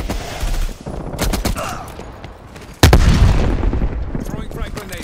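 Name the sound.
War Machine grenade launcher firing in Call of Duty: Cold War video game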